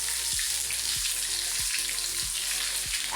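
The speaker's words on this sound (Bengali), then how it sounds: "হালকা গরমে একে একে আমি এটা ছেড়ে দিই" Banana blossom cutlets fry in moderately hot oil in a wok, giving a steady, close, dense sizzle with soft periodic stirring or scraping touches roughly every half second and no talk.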